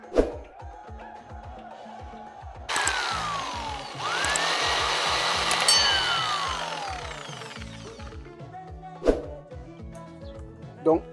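A hot-air blower warms PVC glue for a homemade chicken feeder, giving a steady whooshing blast for several seconds. Quieter clicks and handling noises come before and after it.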